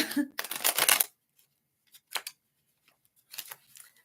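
Tarot cards are shuffled by hand in a quick riffling burst, then in a few softer scattered flicks and shuffles separated by quiet pauses, close and moderately loud.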